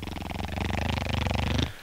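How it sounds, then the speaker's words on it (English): Automated turret in the Borderlands video game firing rapidly as it kills enemies: a dense, buzzing rattle of fast, evenly pulsing shots, loud and continuous for nearly two seconds before cutting off abruptly. "That's the sound of my turret killing you all."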